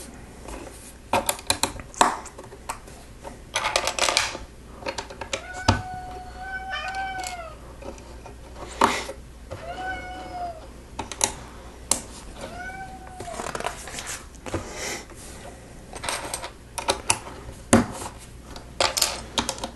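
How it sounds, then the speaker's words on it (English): A house cat meows several times at a table during Lego building, short rising-and-falling calls spread across the stretch, mixed with loud clicking and rattling of plastic bricks nearby. "I'm pretty sure the cat does know whenever I'm recording a video, because any other time he will not meow or jump on this table."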